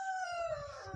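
A laying hen in a henhouse gives one drawn-out, falling call, close and clear, much like a crowing or loud cluck, lasting under a second over a faint background.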